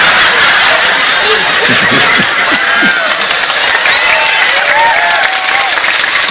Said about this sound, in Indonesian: Mereka udah mulai tepuk tangan.